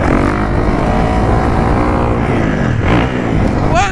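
Kawasaki KX450 dirt bike with a brand-new exhaust, its engine droning loud and steady on a rutted motocross track, with a brief rising rev near the end.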